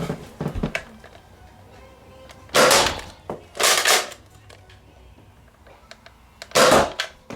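A Nerf N-Strike blaster fires foam darts at a digital target, giving a few sharp, loud plastic pops and bursts spaced seconds apart, with quieter handling clicks between them and no talking.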